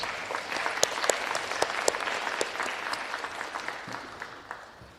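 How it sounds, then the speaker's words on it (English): A crowd applauds at a Space Force JROTC ceremony at Warren County High School, with steady dense clapping and a few sharper near claps, tapering off toward the end. "Let's give her a huge round of applause"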